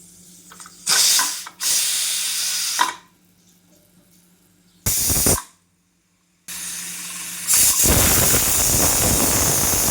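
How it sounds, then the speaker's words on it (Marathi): A pressure cooker holding tindora (ivy gourd) curry with a little added water lets off loud hissing steam whistle blasts, several bursts separated by quiet gaps, the last one long and sustained. "थोडं पाणी घालून आहे ना आपण एक सिटी होऊ देऊ"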